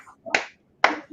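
A game-show contestant clapping hard, two sharp separate claps about half a second apart, close and crisp, with a faint murmur before the first.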